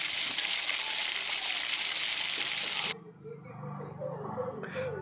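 Chopped onion and ginger paste fry in a pan with a loud, steady sizzle for about three seconds, then the hiss drops away to quieter stirring and faint kitchen sounds.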